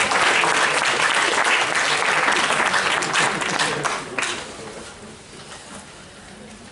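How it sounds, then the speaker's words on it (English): An audience claps for a school class at a year-end celebration, dense steady applause that thins and fades over the last seconds. "And a round of applause there for the 4 Beech class."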